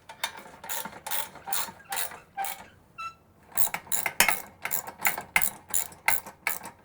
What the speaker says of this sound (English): take your 17mm wrench and your 14mm socket, and we're just going to go ahead and tighten up that swing arm just like this